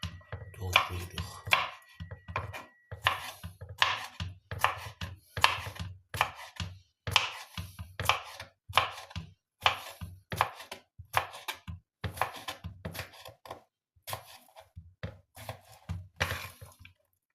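A knife chops cucumber on a cutting board for a crab salad, a long run of crisp, close knocks in uneven bursts with brief pauses between strokes, fairly quiet and without talk.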